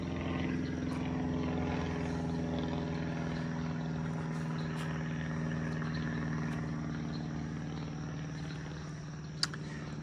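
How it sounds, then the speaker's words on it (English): A propeller plane flies over a swamp marshland, a steady droning engine hum with strong low tones that holds evenly throughout, moderately loud with no talk. "when you start recording, a plane goes over"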